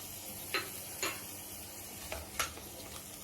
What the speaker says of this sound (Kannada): ಈರುಳ್ಳಿನೂ ಹಸಿಮೆಣಸಿನ್ಕಾಯಿ ಹಾಕಿ ಹುರ್ಕೊಳ್ಳೋಣ.